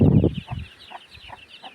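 Hens cluck low and close while small chicks peep in a steady, high twittering chorus behind them in a backyard chick enclosure.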